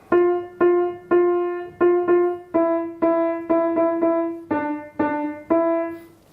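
A phrase of Jingle Bells on piano: about a dozen clear, evenly spaced notes struck one after another, each decaying briefly before the next, played alone with no voices.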